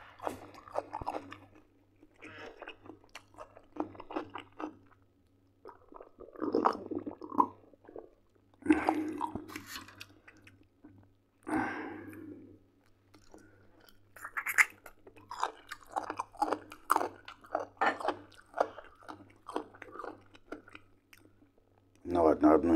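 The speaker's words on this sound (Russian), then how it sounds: "Ну ладно, одну еще съедим." Crunchy snacks chewed close to the mic during a mukbang, with repeated crisp bites and wet chewing in irregular bursts and brief pauses, a steady low hum underneath.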